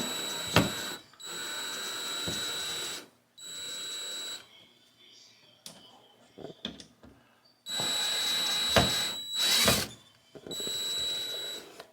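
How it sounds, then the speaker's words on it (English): Power drill driving screws into a wall inside a house, heard as several close, loud whirring bursts of a few seconds each, separated by short pauses and quieter handling noises. "And you screw these in the rest of the way."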